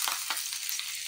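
Onion frying in hot oil in a kadhai gives a dense, close hiss of sizzling with a few soft stirring strokes layered over it.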